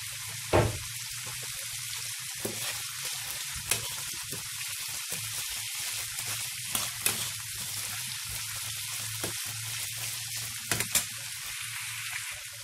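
Bacon frying in a pan with peas about to be added, a steady broadband sizzle running throughout with a few sharper pops and crackles, close and fairly quiet, with no one talking.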